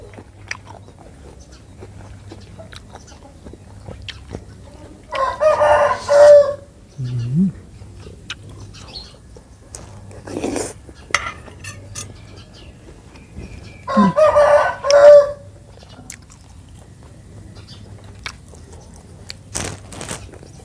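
A rooster crows twice in a Thai farmyard, two loud drawn-out calls about nine seconds apart, with softer clucks and scattered farmyard noises between them.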